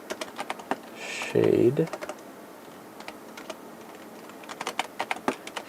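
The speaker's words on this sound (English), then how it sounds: "My typing is kind of wild today." Rapid clicks of a computer keyboard being typed on, a steady patter of light taps through the whole stretch, briefly interrupted by a short burst of close speech.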